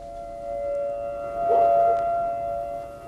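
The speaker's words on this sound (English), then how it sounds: "An eerie siren warned the islanders to take cover" An emergency siren on Montserrat, sounded to warn of the Soufriere volcano erupting, holds a steady wailing tone with a slight swell midway, heard from a distance over faint background noise.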